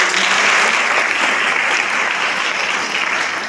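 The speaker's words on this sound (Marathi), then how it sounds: "त्यांचं टाळ्या वाजवून आपण स्वागत करावं" An audience claps steadily and densely for the full stretch to welcome dignitaries at a public event, sustained crowd applause with no speech on top.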